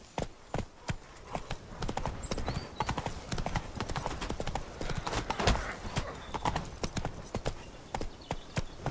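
Horse hooves galloping in The Witcher 3, a fast, loud, continuous clip-clop rhythm close up, with brief voice exclamations among the hoofbeats.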